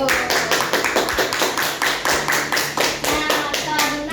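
Children in a classroom clap their hands together in quick rhythmic bursts after a maths lesson, a close, crisp, regular patter of many small hands with faint young voices mixed in.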